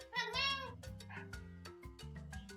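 A kitten lets out a sharp, loud yelling meow, followed by softer close-up mews and chirps in a quiet room, with a person's voice mixed in among the cries.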